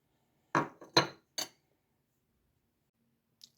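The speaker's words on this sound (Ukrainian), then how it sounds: "І помаленьку вже можна вимішувати ложкою навіть." Three quick clinks of a spoon against a bowl while stirring cocoa cream close by, followed by silence and one faint tap near the end.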